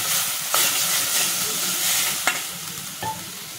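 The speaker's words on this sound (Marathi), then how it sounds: "मसाले छान परतून घ्यायचे।" Turmeric, amchur powder and other spices sautéing in a pan as samosa filling is prepared, a steady close sizzle with a few sharp stirring clinks against the pan.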